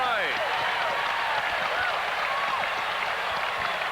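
A basketball arena crowd roars and cheers steadily after a dunk by Dominique Wilkins in an Atlanta Hawks–Houston Rockets game, a dense, sustained wash of noise with voices calling out inside it.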